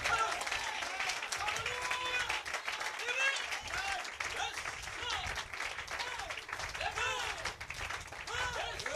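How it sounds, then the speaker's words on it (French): A church congregation applauds loudly and continuously while voices shout and cheer over the clapping throughout. "Donnez une main d'acclamation."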